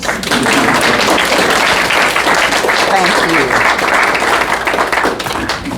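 Audience applause for a music group at a community celebration: loud, dense clapping holds steady throughout while a voice speaks briefly over it.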